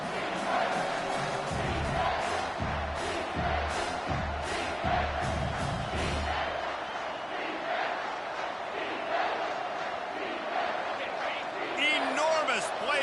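A roaring stadium crowd at a college football game, Washington versus Maryland, on a third down: a loud, sustained roar with deep thumping, and a commentator talking over it.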